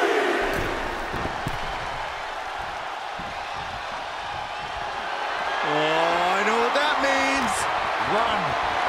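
A loud crowd roars steadily throughout in the wrestling video game WWE 2K24, with a commentator talking over it and electronic game sound effects sweeping near the end.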